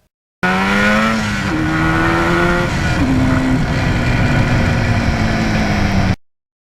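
A 1977 Yamaha RD400 two-stroke motorcycle revs hard and climbs through the gears, its buzzing engine note rising, dropping at each shift, then rising again. It is loud and close, with no talk.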